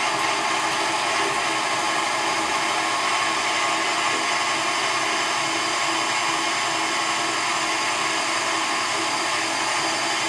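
An electric mixer beats butter, cream cheese and sugar with a continuous, even whirring drone at medium speed that holds steady throughout.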